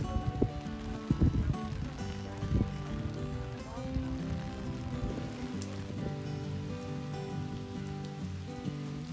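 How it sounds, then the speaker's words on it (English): Rain falling outdoors near the Great Smoky Mountains and New River Gorge, a continuous patter of drops on surfaces with occasional louder splashes and knocks, fairly close and steady for several seconds. "The rain continues,"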